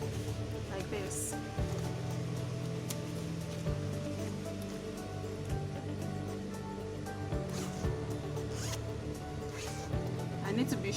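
A zipper on a garment is run along its teeth in repeated pulls, a raspy rhythmic zipping close to the microphone with a low steady hum underneath.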